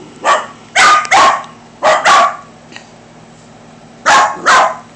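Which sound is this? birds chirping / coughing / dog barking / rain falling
dog barking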